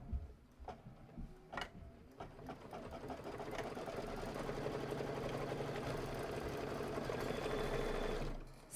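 Embroidery sewing machine starting after a couple of sharp clicks, then stitching at a steady rapid mechanical rattle for several seconds before stopping, quiet and close with no talk.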